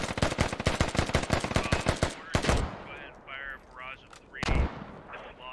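Rapid bursts of automatic gunfire crackle during a squad-based video game battle, a dense volley first and then scattered shots, with voices talking over it.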